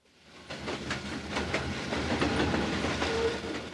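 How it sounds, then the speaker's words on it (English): A westbound BN freight train rolls past close by on a single main line, wheels clattering in a steady rumbling rhythm with hissing noise over the top. "a westbound freight passes by"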